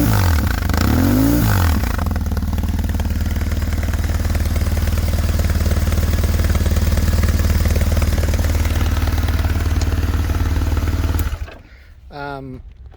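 A 2002 BMW R1150GS Adventure motorcycle with an aftermarket Ztechnik exhaust idles loudly with a deep, throaty rumble, a brief rev early on, then cuts off near the end, followed by faint sounds.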